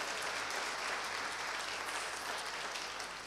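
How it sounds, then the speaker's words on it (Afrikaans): Steady, dense applause from a church congregation fills the whole stretch, an even wash of many hands clapping together with no voices standing out. "Geef vir haar lekker aan 'n klap, Sureta."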